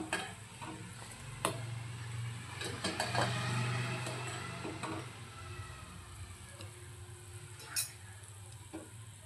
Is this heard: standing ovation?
no